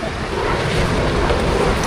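A strong river current rushes and roars close by, a dense, steady wash of water noise with some wind buffeting, loud and unbroken throughout.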